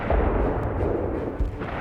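Deep, rumbling artillery booms roll continuously, with a couple of heavier thuds standing out against a dense, heavy background of distant explosions.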